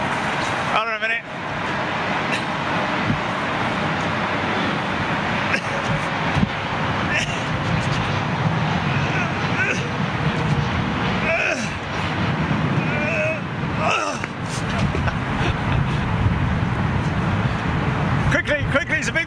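A large jet aircraft landing at London Heathrow gives a steady, loud broadband roar that fills the whole stretch, with wind buffeting the microphone and a person talking over it.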